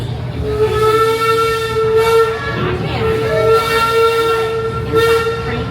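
Busch Gardens Railway train at Busch Gardens Williamsburg sounding its whistle on departure: loud, close, sustained harmonic blasts that repeat over a steady low rumble of the train.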